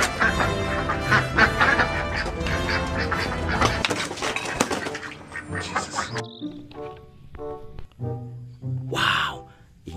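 Several raspy duck quacks come through in short bursts, mixed with loud, busy background noise and other sounds.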